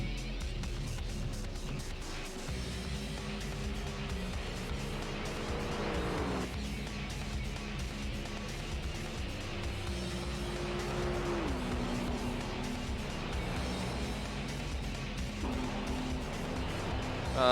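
Race cars in the Gran Turismo 3 video game roar continuously with shifting engine pitch, gear changes and occasional tire squeal, loud and sustained throughout without talk.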